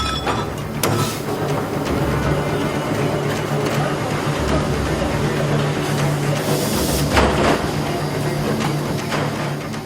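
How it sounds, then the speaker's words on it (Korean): A 100-ton press stamps 0.65mm nickel-silver pots in a factory, a steady mechanical hum and rumble broken by a few sharp metallic impacts spaced several seconds apart. "약 100톤 이상의 힘을 가해 냄비 형태를 찍어내는 프레스 가공입니다."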